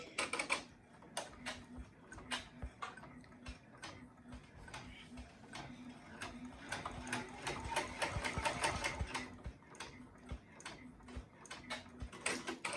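An embroidery machine stitches letters onto a shirt neckline with a rapid, steady ticking and needle-punching rhythm that runs throughout at moderate, close-up volume, with no talking.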